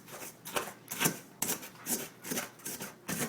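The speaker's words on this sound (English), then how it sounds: "you just want to keep on mushing it completely together until it's just as fine as the regular breadcrumbs" Bread crumbs are mushed and crushed by hand into fine breadcrumbs, giving close, repeated dry crunching and rustling bursts in an irregular rhythm of about eight strokes, with no speech.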